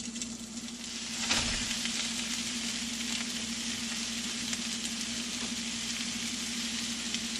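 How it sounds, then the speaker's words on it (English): Sausage sizzling in a hot pan, a bright continuous crackle that swells just after it goes in and then holds at a steady, close level with a low hum beneath. "So we're going to take our sausage and put that in and get it cooking."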